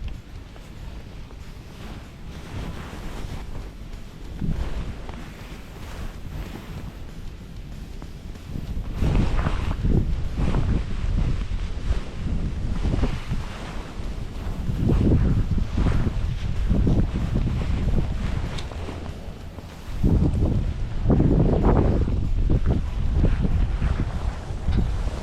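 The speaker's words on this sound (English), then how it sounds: "That wind's sharp, ain't it?" Sharp, gusty wind on a riverbank while trout fishing on cold tailwaters, roaring over the microphone in repeated loud surges between quieter lulls, steady and close throughout.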